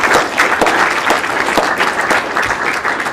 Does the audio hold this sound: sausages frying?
no